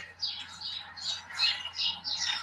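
A chorus of birds sings outdoors in spring, with overlapping chirps and squawky calls. They come in several quick bursts, fairly close and moderately loud.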